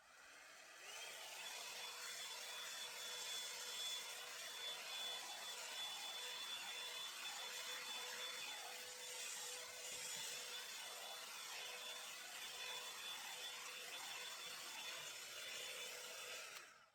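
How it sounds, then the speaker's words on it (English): An electric hot brush is drawn steadily through a human hair wig, producing a continuous soft brushing rustle with a faint motor hum, alone and at even loudness throughout. "I have this electric brush, you guys. You see, I was brushing it out"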